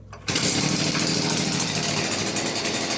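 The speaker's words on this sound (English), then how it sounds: "if the engine is warm like this, you want to use it, you just switch on there" A warm Stihl leaf blower engine starts abruptly after a moment of quiet and runs at a loud, steady rasping idle with a fast pulsing beat, close by.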